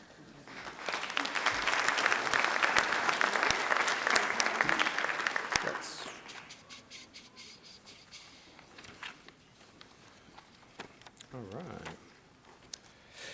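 Audience applause at a youth awards ceremony in Monroe County, New York, loud and sustained for about six seconds, then fading to scattered claps and room noise.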